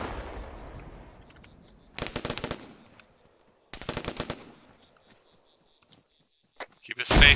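Frag grenade blasts and automatic gunfire from the ArmA 3 military shooter game: a fading explosion rumble, then two loud bursts of rapid fire separated by quiet, and a sharp final blast at the end.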